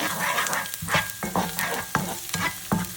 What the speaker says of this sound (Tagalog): Now, mag-saute tayo gisa tayo ng garlic or bawang.